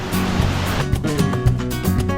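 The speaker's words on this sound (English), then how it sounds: "check that out bro that's what you call a waterfall" Flooded Khlong Lan waterfall roaring close by, a dense continuous rush of water with steady churning texture and no voices.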